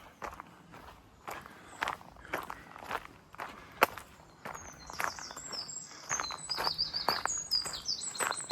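Birds chirp and tweet in the woods at Rayleigh Mount, with small calls scattered through and a bright cluster of song near the end, over steady crunching footsteps on a path.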